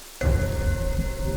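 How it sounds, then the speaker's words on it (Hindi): Heavy rain and storm noise bursts in suddenly after a quiet moment, a loud, dense wash of downpour with a faint steady tone inside it, continuing without pause. "बारिश और आंधी इतनी तेज थी"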